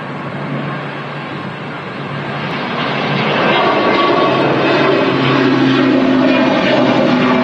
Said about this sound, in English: It's an Emerald Airlines Irish registered ATR 72 600 series.